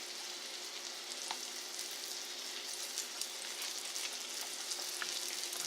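Flour-coated beef cubed steak crackles and sizzles steadily in a hot pan, a continuous close, moderately loud frying hiss with scattered pops and no voices.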